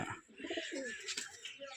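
Chocolate-coloured pigeons cooing close by, a short burst of soft throaty coos over a faint background.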